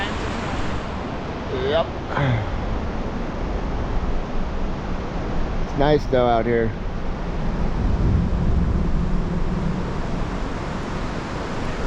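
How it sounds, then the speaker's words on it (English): A loud river rushes steadily throughout, a broad continuous roar from nearby water, with people talking briefly over it. "That river sure is loud."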